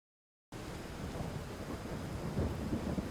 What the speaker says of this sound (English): So I didn't say much about the Bastion rain sound effect.